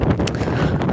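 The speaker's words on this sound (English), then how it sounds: "it's very windy here" Steady wind buffets the microphone in a continuous low rumble, with a brief gusty burst partway through.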